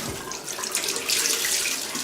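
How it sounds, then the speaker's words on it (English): Hot water running steadily from a tap onto a rag for rinsing after shaving a bald head, a close, continuous splashing rush with no voices. "rinse the head off by putting some more hot water on a rag"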